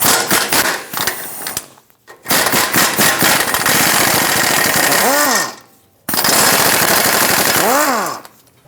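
An impact or power socket tool rattles in loud, fast bursts while removing 14mm exhaust front-pipe nuts on a 2008-2012 Honda Accord 3.5L V6. Three long hammering runs are separated by short pauses, and the motor whines as it spins down.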